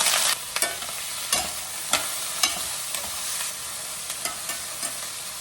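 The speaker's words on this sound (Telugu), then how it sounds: "ఇక ఇప్పుడు పొట్లకాయ ముక్కలు వేసేస్తాను" Ridge gourd pieces fry in hot coconut oil, a steady bright sizzle with brief stirring scrapes and clinks breaking through every second or so, close and fairly loud, with no talking.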